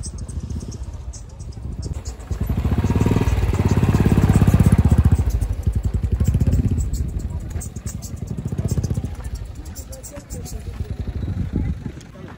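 A motorcycle engine rumbles and swells as the bike pulls away on a mountain ride near the Korola border in Upper Mustang, a loud, steady drone that rises and then eases under nearby talk.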